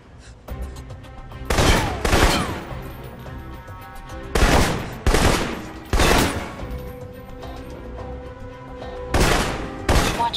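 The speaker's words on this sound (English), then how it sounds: "For long-range encounters, the assault rifle's the key." Assault rifle fire in the video game Alpha Protocol, coming as loud, close bursts of rapid shots spaced a second or two apart, with quieter game ambience in between.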